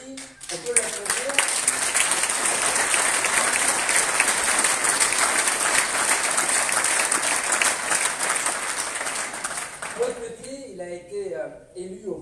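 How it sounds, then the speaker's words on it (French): Audience at a mayor's New Year greetings ceremony in Duclair breaks into sustained, dense applause that fills most of the moment, with a speaker's voice heard before and as the clapping fades. "Et Claude Petit, on peut l'applaudir."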